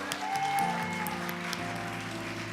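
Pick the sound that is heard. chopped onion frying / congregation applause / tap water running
congregation applause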